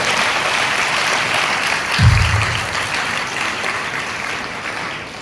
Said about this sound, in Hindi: आइए हम और एक बार दौड़ के लिए ताली बजाते हुए बताएंगे